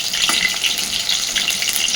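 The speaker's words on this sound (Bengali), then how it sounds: "ওপিট উল্টে উল্টে সুন্দর করে মাছগুলোকে ভেজে নেব।" Amudi fish frying in oil in a pan over a medium flame, a close, continuous crackling sizzle with small pops.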